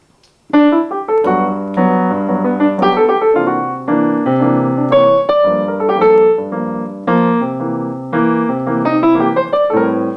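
Jazz piano chords played with the right hand over a bass line, a steady rhythmic sequence of rich, sustained voicings, close and clear with no talking.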